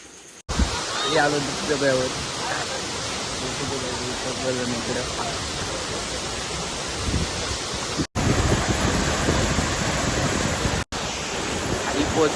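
Continuous broad roar of rushing water from a waterfall, steady and loud, with brief voices early on and a couple of abrupt cuts.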